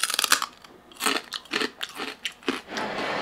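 Someone eating food, with crisp bites and crunchy chewing in quick irregular bursts, close and moderately loud, with no talking.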